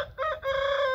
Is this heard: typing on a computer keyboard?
no